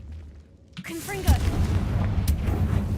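A Confringo fire spell blast in Hogwarts Legacy fires off with a sharp whooshing burst followed by a booming impact and rumbling tail, with a second crack later, moderately loud over game ambience.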